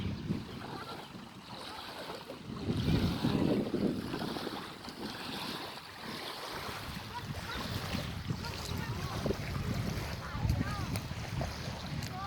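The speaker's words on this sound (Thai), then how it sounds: "นี่เป็นเรือเขาหาปลา" A fishing boat moves across open reservoir water at Ubol Ratana Dam, with a steady low rumble of water and wind buffeting the microphone throughout and no talking.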